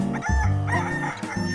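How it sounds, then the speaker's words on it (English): A rooster crows once in a loud, close cock-a-doodle-doo with harmonic, drawn-out phrases, heard alone with no talking. "And the cockerel cock-a-doodle-dooed."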